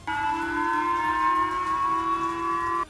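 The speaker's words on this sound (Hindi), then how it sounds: "वहां खतरे का सायरन बज गया" A steady, wailing air raid siren in Japan, sounding for a North Korean missile launch, holds a loud sustained tone with harmonics throughout, continuous and prominent with no voices.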